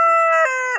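A rooster crows loudly and close at a Chaite Dashain fair near a temple, one bright, sustained, harmonically rich call that bends in pitch toward its end.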